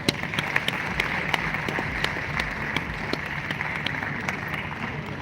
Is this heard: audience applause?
yes